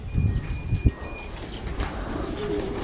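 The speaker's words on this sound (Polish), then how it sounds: "Jest następny gołąb. Prosimy bardzo. Siada do góry ten gołąb." Racing pigeons arrive and land at a loft in Kalisz, with one sharp, close flutter or thump of wings standing out over a low, rumbling outdoor background and faint thin tones.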